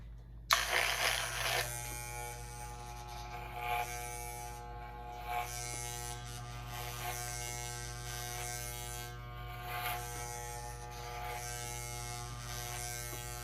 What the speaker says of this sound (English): I can do a clipper cut